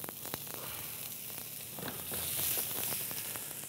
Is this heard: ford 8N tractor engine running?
no